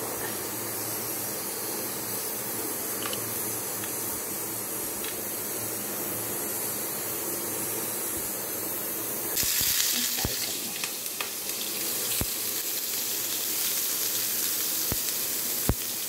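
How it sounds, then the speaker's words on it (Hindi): Capsicum and tomato sizzle steadily in a hot pan with oil and salt, a continuous frying hiss that brightens and grows louder partway through, with a few sharp clicks and stirring knocks. "कैप्सिकम और टमाटो को पहले से मैं थोड़ा सा फ्राई कर लेती हूँ।"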